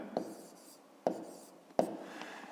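Pen strokes write numbers by hand while working a long division problem: three soft, separate taps and scratches about a second apart, quiet and close, with no talk.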